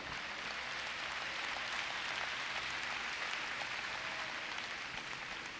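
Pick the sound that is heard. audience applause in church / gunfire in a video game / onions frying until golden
audience applause in church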